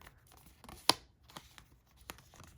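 Tarot cards being shuffled close up: a sharp papery snap stands out, then softer scattered flicks and riffles with quiet gaps between them.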